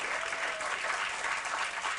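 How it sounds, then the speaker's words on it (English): A crowd applauds at the Aurora Fire Department swearing-in ceremony for Chief Dave McCabe and Deputy Chief Dan Osman, with dense, steady clapping filling the room. "Another round of applause for Chief Dave McCabe"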